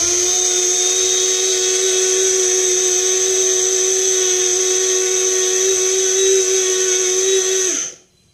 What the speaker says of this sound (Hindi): देखो फ्रेंड्स एटा मोर मिनी ग्राइंडर